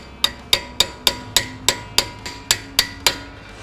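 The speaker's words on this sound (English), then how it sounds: "I'm gonna be using the socket wrench" Eleven sharp metallic strikes in a steady, even rhythm, close and loud, each with a short ringing decay, like a hammer-style tapping on a socket wrench.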